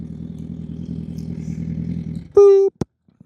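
A motorcycle rolling onto a gravel church lot gives a steady low engine rumble for a couple of seconds, then cuts to a brief high electronic beep and a single click before quiet.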